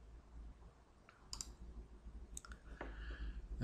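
Several sharp, short computer mouse clicks, spaced apart, close the options dialog in Autodesk Inventor within Product Design Suite 2012, heard clearly against a quiet room with a faint low hum.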